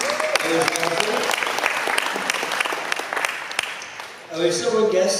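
An audience applauds the caterer with brisk, sustained clapping, and a voice starts talking near the end as the clapping continues.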